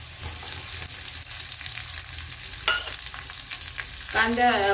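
Onion dropped into a hot pan for a spicy baingan bharta, frying in a constant close sizzle with a few spatula stirs and a sharp scrape near the end, with no voices.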